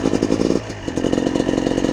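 A freshly rebuilt motorcycle engine running through its break-in warm-up, a steady, loud, close chugging idle with a fast pulsing beat and a brief dip partway through.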